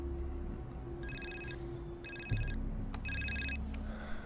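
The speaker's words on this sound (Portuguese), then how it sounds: "Eu já disse, eu tenho que atender o telefone." A telephone rings in repeated short electronic trills, three bursts about a second apart, fairly near, over a low background hum with a brief thump in between.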